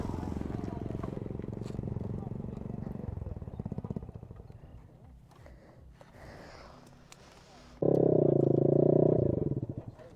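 A motorcycle with its silencer removed idles and then blasts into a loud, raw roar near the end, with people talking nearby beforehand.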